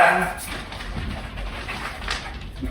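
A dog frustrated with a child whimpers and whines in soft, faint bursts over a dim room background, with no clear barking.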